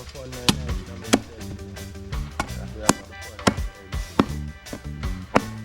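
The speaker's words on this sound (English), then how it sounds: "Chopping up a good old Arnold" Pork meat being chopped, a series of sharp irregular blows landing about once or twice a second over a background of music and voices.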